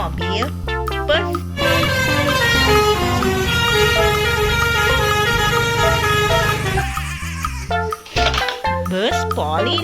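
A toy bus honks its horn in loud, repeated tonal blasts, a short burst at the start, a long sustained stretch in the middle and more toots at the end, with a voice talking in between.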